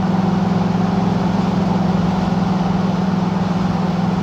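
A 1976 Pontiac Trans Am engine runs at partial throttle, giving a loud, close, steady drone that holds even for several seconds with no one talking.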